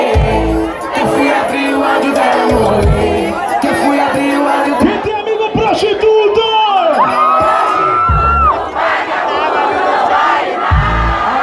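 A festival crowd at a night event shouts and cheers loudly in bursts, with whoops and a battle-cry roar answering a host's calls, dense and close throughout.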